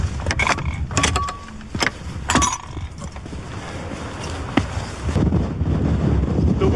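Strong mountain wind buffets the microphone in uneven gusts, with rumbling low roar and scattered creaks and knocks of camping gear close by.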